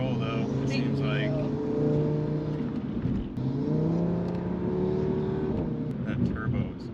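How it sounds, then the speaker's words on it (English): A tuned Audi RS3 with a 600+ horsepower turbocharged engine pulls hard from inside the cabin, its steady drone rising and falling in pitch through gear changes while voices talk over it. "That turbo is crazy."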